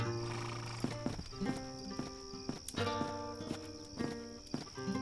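Horse hooves clip-clopping in The Dark Eye: Chains of Satinav adventure game, a steady walking rhythm of close, distinct hoof knocks over a droning ambient background with a faint whinny-like tone.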